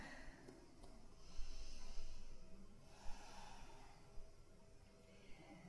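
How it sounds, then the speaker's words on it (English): Quiet breathing during a yoga session, slow soft inhales and exhales with a few sharper nasal sniffs and puffs, close and gentle with no talking. "Listen to the quality of the breath coming in."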